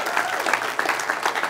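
Applause breaks out in a congregation during a church anniversary service, a fairly brief burst of dense clapping at moderate loudness from a room full of worshippers.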